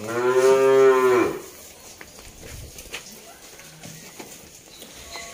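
A cow at a cattle trader's pen lets out one loud, close moo lasting about a second, followed by a low murmur of background activity around the livestock.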